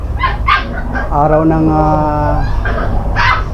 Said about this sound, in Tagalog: naglalaro yung mga aso ko